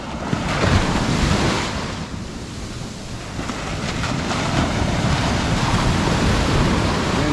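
Surf rolls continuously onto a Thailand beach at dawn, with strong wind buffeting the microphone and a broad, roaring wash of waves that swells and eases without pause.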